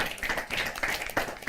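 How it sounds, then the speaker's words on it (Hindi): An audience at a Hindi poetry open-mic gathering claps together, close and fairly soft, with individual hand claps audible in an uneven, brief burst. "जरा जोरदार ताली तो बजाइए एक बार"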